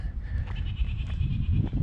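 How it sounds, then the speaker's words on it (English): Wild Great Orme goats, some of them kids, bleat faintly on the little cliff edges along the North Wales coast near Llandudno, a brief wavering call over outdoor wind rumble. "on the little cliff edges there are some of the Great Orme goats"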